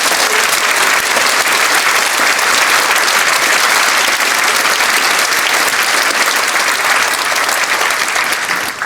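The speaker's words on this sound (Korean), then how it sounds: "다시 한번 우리 감사의 마음을 담아서 이런 박수 한번" A church congregation at Saeronam Church in Daejeon claps loudly and steadily during an inauguration ceremony, a dense, continuous round of applause with no talking over it.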